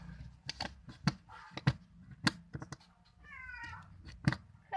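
Pet cat meowing in short repeated calls indoors, fairly quiet, mixed with scattered clicks and handling noises.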